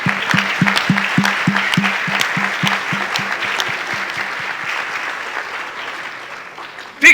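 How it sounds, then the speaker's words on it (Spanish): Loud, continuous audience applause in a conference hall during a justice and democracy panel, dense clapping throughout with a rhythmic low thumping underneath, fading gradually before a sharp sound at the very end. "Un aplauso para la mujer, por favor."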